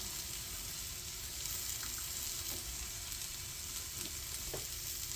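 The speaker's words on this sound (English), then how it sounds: "we're going to take some tortillas, warm those up" Tortillas warming in a pan, a soft continuous sizzle with faint occasional pops and crackles, quiet and steady with no voices.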